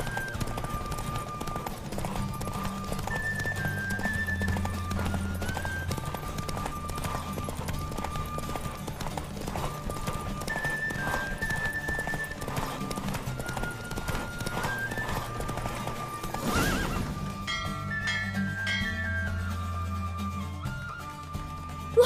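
Hooves clip-clop rapidly and rhythmically through a horse race in The Witcher 3, with a whinny breaking out near the end over layered game music and effects.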